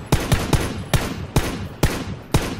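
Seven loud, evenly spaced gunshots sound in a video game, each a sharp close crack with a short tail, fired in pairs and singles over under three seconds, with no talking.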